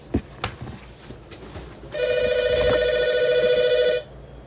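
A telephone rings during a podcast recording in a room, one steady electronic ring lasting about two seconds, loud and close, after some faint knocks and background noise.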